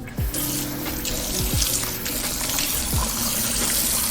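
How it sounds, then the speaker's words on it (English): Warm water splashes and trickles in short bursts, sloshing close by as hands scoop from a bowl to wash a face. "I have my bowl of warm water. I'm quickly gonna just wash my face"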